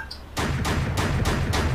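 Cannon on an M2A2 Bradley fighting vehicle firing in the DCS combat simulator: five loud, evenly spaced booming shots roughly a third of a second apart, with no voices.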